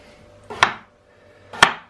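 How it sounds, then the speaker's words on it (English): A kitchen knife cuts potatoes into chunks on a chopping board, producing two sharp, close thuds about a second apart, each with a short woody knock and no talking. "what you want to do is you want to cut this into chunks"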